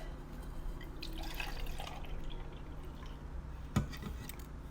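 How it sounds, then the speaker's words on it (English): Milk poured from a container into a blender for an Oreo boba milkshake, a faint steady liquid trickle in a quiet kitchen with a brief clink near the end. "Then pour in your 1 cup of milk."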